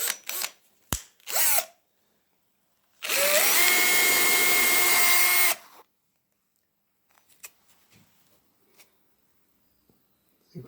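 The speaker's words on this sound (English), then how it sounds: "So with the drill in reverse," A power drill runs in reverse through an upholstery workpiece, a loud steady whine lasting about two and a half seconds between quiet clicks and handling noises.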